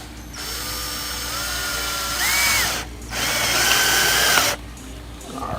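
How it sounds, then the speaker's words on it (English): A power drill drives yellow deck screws into wood, with two loud whirring bursts of rising motor whine separated by short pauses, close and clear. "Got some yellow deck screws. I'm going to screw into the top here."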